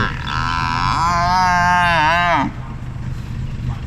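A water buffalo gives one long, loud, close moo lasting a couple of seconds, wavering in pitch, at a Thai buffalo beauty contest in Phitsanulok. The morning outdoor crowd murmurs faintly around it.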